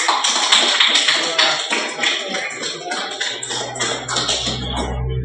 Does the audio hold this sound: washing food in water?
no